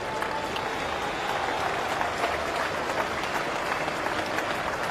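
A stadium crowd at a Test cricket match against Pakistan breaks into sustained applause after a Joe Root boundary, a broad steady wash of clapping and crowd noise with faint voices mixed in.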